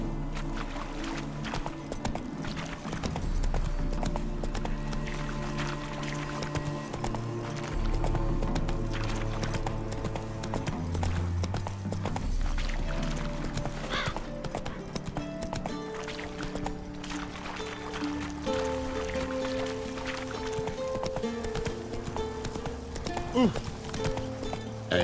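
Roach gallops in The Witcher 3: Wild Hunt – Blood and Wine, a steady run of clip-clop hoofbeats under game music throughout, with a faint whinny and a person's voice now and then.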